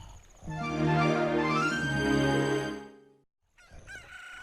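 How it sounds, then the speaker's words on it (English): Rooster-like crowing from a newly hatched cuckoo chicken in The Legend of Zelda: Ocarina of Time 3D, one long loud drawn-out crow followed by a brief pause and a short fainter game sound. "we now have a functioning chicken instead of our weird egg on the bottom screen"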